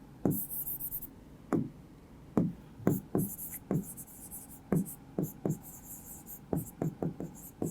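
Chalk or marker strikes and scrapes on a classroom board, a run of sharp, irregular taps and short strokes heard close and moderately loud, with a hiss in the background and no speech.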